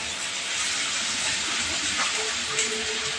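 Cut potatoes and vegetables drop into hot oil and give a steady, loud, broad hissing sizzle that runs continuously without pause.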